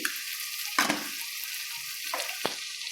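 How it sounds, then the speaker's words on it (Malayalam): Chilli powder and turmeric fry for a chicken biryani, a steady close hiss broken by a few sharp scraping strokes of stirring, with no voices. "ഇതൊക്കെ നമുക്കൊന്ന് ഇളക്കി കൊടുത്ത് മൂത്ത് വന്നതിന് ശേഷം നമുക്ക് ചിക്കൻ ആഡ് ചെയ്യാണ്ട്"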